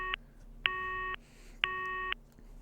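A cell phone in the horror video game Corpse Party: Book of Shadows gives three clear, sustained electronic dialing beeps, each about half a second long, separated by short gaps, in a quiet scene.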